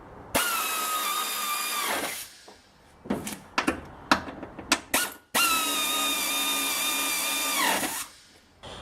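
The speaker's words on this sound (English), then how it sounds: "this is just a little 1/4-inch air ratchet" A 1/4-inch air ratchet tightens strut bolts on a 2010 Toyota Corolla in two sustained whirring runs, with clanks and clicks of tool handling between them, close and loud with no talk.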